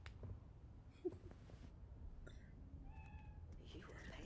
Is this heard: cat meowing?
yes